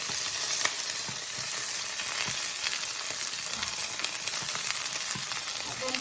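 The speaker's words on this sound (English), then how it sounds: "You can hear the peppers." Peppers sizzle and crackle steadily in a hot pan, a continuous close-up frying hiss with no voices.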